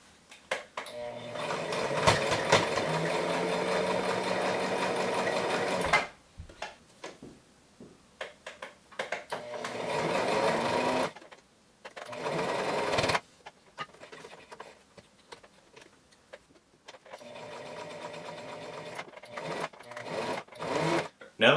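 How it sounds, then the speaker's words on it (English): A sewing machine stitches across a fabric face mask and over its tie, running in bursts of steady motor hum, close and fairly loud, with short pauses between runs. "now that I turn the fabric sideways and I'm about to sew over the tie"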